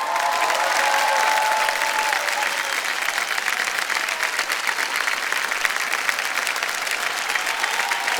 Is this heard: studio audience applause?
yes